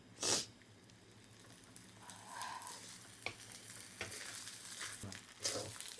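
Beaten duck eggs are stirred and fried in a pan, giving a faint, soft sizzle with a louder scrape near the start and another near the end.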